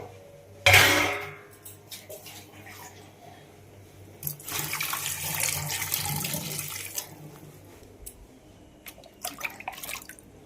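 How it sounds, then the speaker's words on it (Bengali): Water poured into a pot while fish is being cooked in a home kitchen. A sharp clatter comes first, then a sustained splashing pour lasting a few seconds, with light dish clinks. "জল দিয়ে নিই।"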